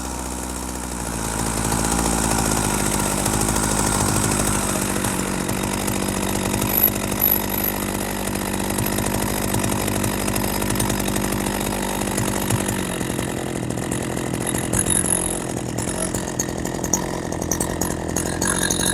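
A Husqvarna 40 chainsaw engine runs steadily at a low idle, a continuous rumbling drone up close with slight fluctuations throughout.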